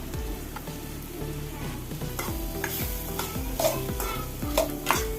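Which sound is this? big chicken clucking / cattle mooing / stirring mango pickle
stirring mango pickle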